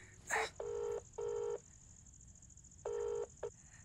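Phone keypad dialing with a few separate DTMF beeps in an irregular pattern, heard fairly clearly over a faint steady high whine and low room noise in a Hindi-dubbed romantic film scene.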